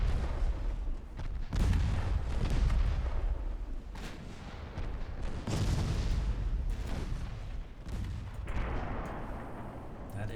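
Naval gunfire and torpedo detonations from the Ultimate Admiral Dreadnoughts warship battle game, with heavy booms and rumbling salvos filling the whole stretch, several strong blasts standing out over a dense, continuous battle roar.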